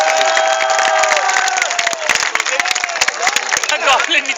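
Loud, dense applause and cheering from an audience at a college kavi sammelan poetry gathering at ABES Engineering College, with whoops and shouts over steady clapping that continues throughout.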